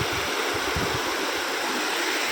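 River water flows as a steady, continuous rush, fairly loud and close, with no voices over it.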